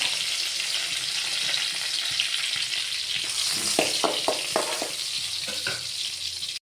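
Garlic, onion and chili frying in a pan give a steady close sizzle, with a handful of short stirring scrapes and clinks near the end before the sound cuts off.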